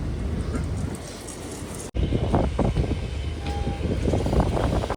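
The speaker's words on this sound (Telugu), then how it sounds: "అయితే మన ట్రైన్ అయితే యశ్వంతపూర్ జంక్షన్కి అయితే వచ్చేసింది." The Garib Rath Express rolls into Yesvantpur Junction with a low, continuous rumble and clattering wheels, broken by a sharp cut partway before the noise resumes nearby.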